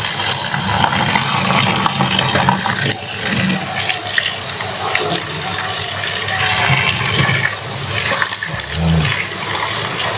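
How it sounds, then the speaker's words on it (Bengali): Cabbage is rinsed under running water from a tap, a loud, steady gushing splash that runs throughout with slight changes as the leaves are turned. "এখন বাঁধাকপিটা একটু ধুয়ে নিই"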